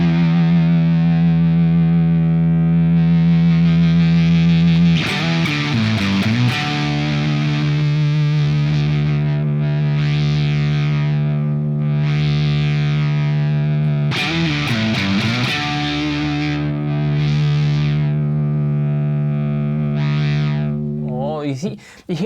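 A distorted electric guitar sustains notes through an effect whose filter sweeps the tone up and down, repeated bursts of strumming with bright, swelling overtones.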